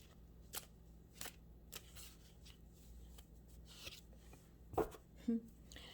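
Tarot cards handled and shuffled up close, soft irregular riffling and sliding taps at low volume, with a couple of sharper clicks near the end.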